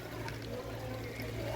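Water pours into a cooking pot of chicken being boiled for a village birthday feast, a steady close splashing rush that runs unbroken under low background hum for the whole moment.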